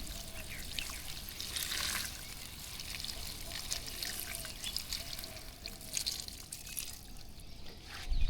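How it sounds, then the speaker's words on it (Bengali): Water poured onto a ridge gourd plant in a rooftop garden during winter, a steady close trickle and splash running throughout with faint outdoor background. "এই গাছটাতেও পানি দিয়ে দিই।"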